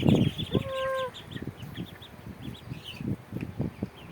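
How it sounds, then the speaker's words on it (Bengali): Domestic ducks on a farm call in quick nasal bursts, a few loud honking cries standing out early on, then a run of shorter calls and clucking among the flock, close by with no talk. "pack pack pack pack pack pack pack pack pack pack pack pack pack বলে ওরা চলে আসে"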